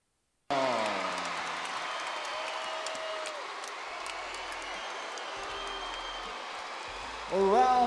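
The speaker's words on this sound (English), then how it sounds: "a round of applause for Deji" Arena crowd applauding a boxing winner, Deji, after the bout is stopped in round five, a steady wash of clapping and cheering that swells near the end, with an announcer's voice over it.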